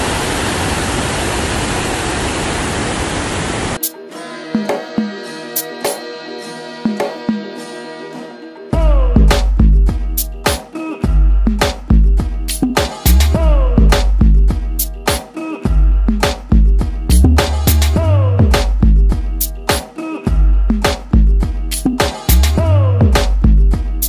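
Dassam Falls in Ranchi roars as loud, steady rushing water for the first few seconds, then gives way to a sparse stretch and a run of hard, irregular thumps and clatter for the rest.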